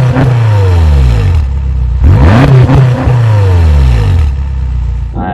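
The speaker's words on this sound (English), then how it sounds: "I own this car because I love the sound of the V8." A BMW M6 V8 fitted with an aftermarket exhaust and a rev limiter revs up and down close by, loud engine rising and falling through several sweeps before settling back to idle.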